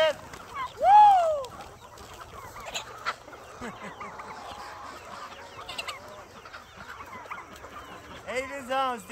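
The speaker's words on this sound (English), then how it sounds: "The chicken's on my stuff." Chickens on a country homestead, scattered clucks and squawky calls near and far, with a loud rising call at the start and another burst at the end, while a person talks among them.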